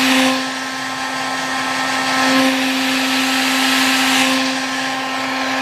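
A heat gun blows steadily with a constant whir and hum as it warms hardened old rubber parts on a Yamaha RD400 carburetor, loud and unbroken without any talk.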